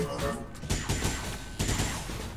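Gunfire in the XCOM 2 War of the Chosen video game sounds as a dense burst of repeated shots with sharp cracks over constant loud game noise.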